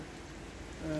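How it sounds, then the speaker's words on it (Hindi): Heavy stormy rain at a street intersection in central Sydney, a dense, steady hiss of downpour close by, with a rising engine-like tone at the very end. "और ज़बरदस्त तूफ़ानी बारिश हो रही है"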